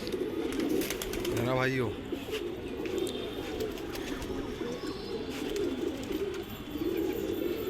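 A pet pigeon on a rooftop gives a short, soft coo near the start, with someone talking over steady outdoor background noise.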